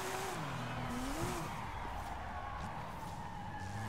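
A drift-built Porsche 911 GT3 RS, rear-wheel drive with 850 hp, slides with a sustained wavering tire squeal over a steady engine drone, heard continuously for several seconds.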